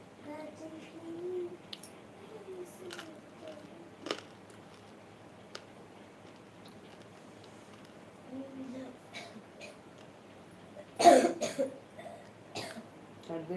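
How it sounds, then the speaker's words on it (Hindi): A person coughs in one sharp, close fit near the end, after a few fainter throat sounds, during a live folk-song stream at home, with quiet voices talking in the background. "सर्दी खांसी होगा लो।"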